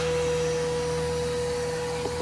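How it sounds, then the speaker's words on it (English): A vacuum cleaner runs continuously during cleanup of a snowmobile, giving a loud, steady motor whine and airy roar with no pauses or talk. "We got the vacuum out"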